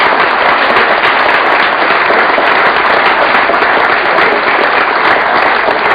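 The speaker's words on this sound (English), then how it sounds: "Round of applause for that." Thick, continuous applause from a presentation audience, loud and unbroken for the full six seconds with no individual claps standing out and no talk over it.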